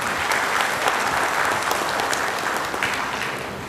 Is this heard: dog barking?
no